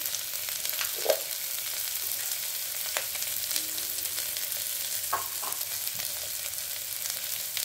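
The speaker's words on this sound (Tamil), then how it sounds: "கறிவேப்பிலை கொஞ்சம் போட்டுக்கலாம்." Curry leaves dropped into hot oil for a vegetable kurma, with a steady close sizzle and scattered stirring scrapes and taps, no talking.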